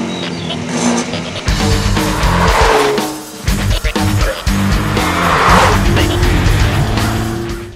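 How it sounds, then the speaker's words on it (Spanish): A 2021 BMW 430i four-cylinder engine pulls away as the car sets off, a loud, steady engine drone with shifting tones and brief tire-like squeals, no talking over it. "es un 4 cilindros el que está respirando ahora mismo bajo el capó"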